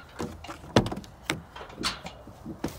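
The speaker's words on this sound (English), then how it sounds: "Let me unlock this door." An old project truck's door is unlocked and opened, giving several clicks and clunks, with one sharp thunk near the start and more knocks after it, close and moderately loud with no talk.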